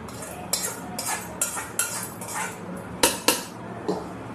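Egg biryani gently folded in a pot, a spoon scraping and clinking against the metal sides in a steady series of close, sharp strokes with no talk.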